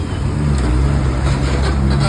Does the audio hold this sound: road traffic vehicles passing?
yes